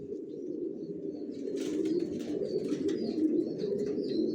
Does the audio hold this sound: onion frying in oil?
no